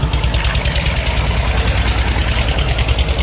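A tractor engine running loudly and close by, a steady throbbing rumble with a fast rhythmic knock that never lets up.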